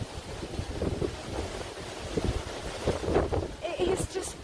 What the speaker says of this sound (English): It is just blowing a bloody gale.